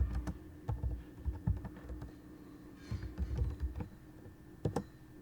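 Typing on a computer keyboard into a command prompt window, uneven runs of dull key taps with brief gaps between them, quiet and close with no one speaking.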